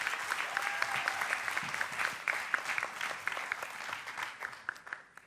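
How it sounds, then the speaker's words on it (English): An audience at a Girls in ICT Day event in Rwanda applauds steadily, a fairly distant, moderately quiet wash of many hands with occasional distinct claps, tapering off at the close. "So a round of applause for Dr."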